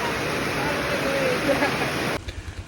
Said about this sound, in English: Tukad Cepung waterfall